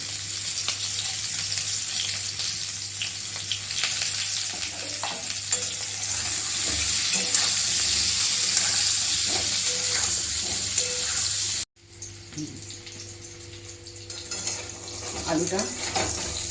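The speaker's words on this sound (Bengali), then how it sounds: "আলুটা ভালো মতন ভাজা হয়ে গেছে বেশ সুন্দর রং হয়ে গেছে" Potato pieces coated with turmeric fry in a pan with a steady, loud sizzle and occasional stirring scrapes, cutting out briefly near the end before the frying resumes a little quieter.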